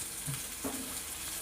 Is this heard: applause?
no